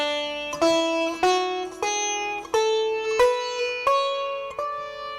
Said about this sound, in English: The major notes all together sound like this.